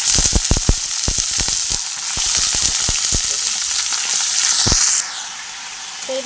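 Chopped vegetables hit a pan of already-fried onions while cooking chowmein, a steady loud sizzle with crackling bursts and clattering stirs early on, the frying easing and quieting after about five seconds.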